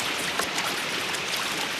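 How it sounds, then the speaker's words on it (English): Steady, full rushing of river water in Madagascar, like a fast stream or rapids just ahead, continuing without a break and with no voices. "sounds like a lot of water up ahead"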